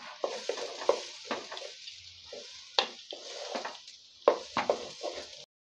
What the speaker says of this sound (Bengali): চালগুলো আমার ভাজা হয়ে গেছে